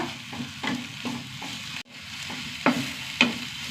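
Two large tomatoes sautéing in a pan with spices, a low crackling sizzle punctuated by repeated spoon scrapes and taps against the pan, close and clear with no speech.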